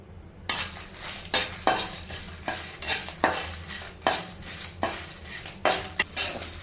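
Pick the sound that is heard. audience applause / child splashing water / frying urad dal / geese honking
frying urad dal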